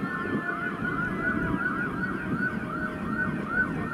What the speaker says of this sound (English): Background sirens help.